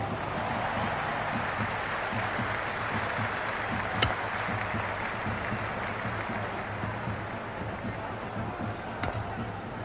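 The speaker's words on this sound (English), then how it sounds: "It's evident and ever so audible that the crowd is at near bursting point at today's play" A cricket stadium crowd during an India versus Netherlands match roars and applauds in a continuous, dense wash of noise that holds steady throughout, with a couple of sharp claps standing out.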